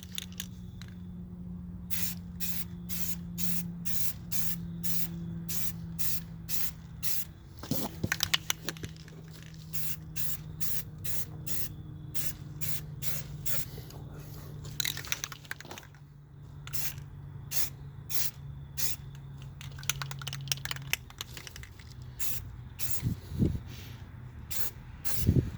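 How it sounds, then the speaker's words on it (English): Short hissing bursts of spray primer on the brake calipers of a BMW E46 330Ci, rapid regular spritzes repeated over a low steady hum, fairly close and moderate in volume. "Now for the last coat of primer."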